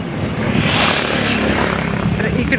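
A large airplane rolls onto the runway at D. B. Patil International Airport, a loud broad roar of jet engines heard from nearby, with people talking over it.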